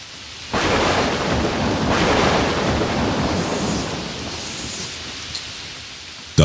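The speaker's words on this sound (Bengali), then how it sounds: "আবার ঝমঝম করে বৃষ্টি শুরু হলো" Heavy monsoon rain pours down in a thunderstorm during the Ashar season, a dense steady roar that starts abruptly and continues loud and unbroken, with a faint rumble of thunder beneath.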